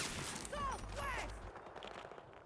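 Gunfire from the shooter game Battlefield 2042 sounds in a couple of close, sharp bursts with whizzing, ringing tails, fading into a quieter background.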